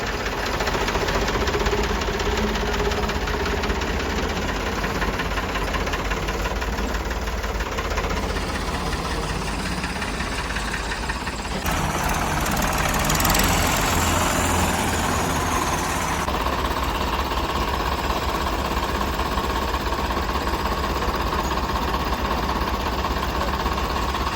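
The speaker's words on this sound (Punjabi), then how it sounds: "ਟਰੈਕਟਰ ਇੱਕ ਹੋਰ ਪੁੱਜ ਚੁੱਕਿਆ" A tractor engine runs loud and steady throughout, with a rough rumbling chug and a slight shift in tone partway through, while tractors work to pull a trolley of sugarcane that is stuck.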